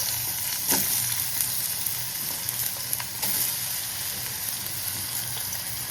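Potatoes for a Gujarati potato sambharo fry in a hot pan with a steady, close hissing sizzle, broken by a few faint clicks and stirs, and no voices.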